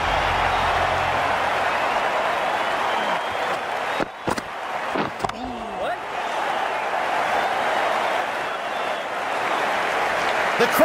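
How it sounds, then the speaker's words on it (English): A stadium crowd applauding in the Cricket 19 video game, a dense, steady roar of clapping and cheering that runs throughout, briefly broken by a few sharp knocks near the middle. "The crowd on their feet."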